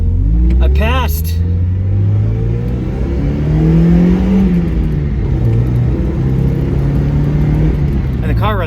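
A Miata engine drives and accelerates just after a smog inspection, revving up with a steady rising drone and rumble that stays loud and close throughout, with brief voice sounds near the start.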